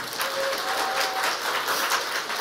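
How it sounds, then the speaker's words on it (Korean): A church congregation claps enthusiastically during a Sunday morning service, a dense steady wash of applause filling the whole stretch, with a faint sustained tone running under it for the first half. "당신 아들이라고 생각하고 박수를 열정적으로 쳐봐요"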